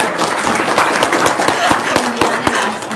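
Audience clapping at a religious talk, a scatter of claps rising and falling over about three seconds, with a voice faintly present underneath.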